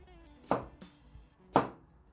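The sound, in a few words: dicing onions with a vegetable knife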